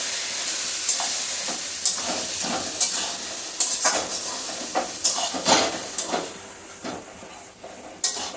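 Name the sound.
stirring green banana mixture in a pan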